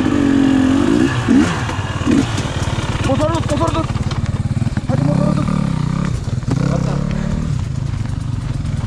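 An enduro motorcycle engine revs loudly and close at Mt Disappointment near Melbourne, rising and falling through repeated throttle blips while people talk and shout over it.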